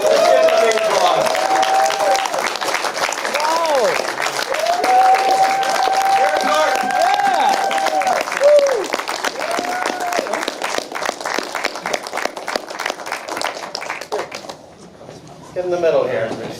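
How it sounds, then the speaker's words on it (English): Sustained audience applause at a Q&A after a screening of the 1969 film Out of It, dense clapping mixed with whoops, cheers and voices, fading toward the end before a brief final burst. "Let's give him a big applause."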